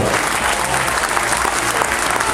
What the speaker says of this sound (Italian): bello applauso